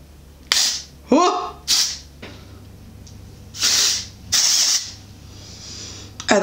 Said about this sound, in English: We're gonna have to do a little spray